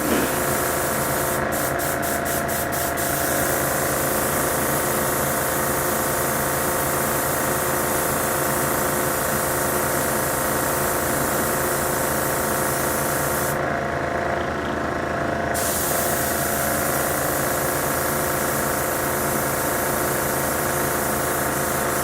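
A spray gun blows alcohol through itself to clean out leftover paint, giving a loud, steady hissing spray over a constant compressor hum, with a brief pause in the hiss partway through.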